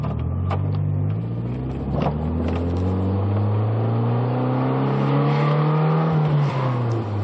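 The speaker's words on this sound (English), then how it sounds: "that's the valves there opening up." A 1991 Nissan S13 engine pulls under acceleration on a mountain drive. Its steady, close droning tone rises gradually in pitch for about seven seconds, with no talk.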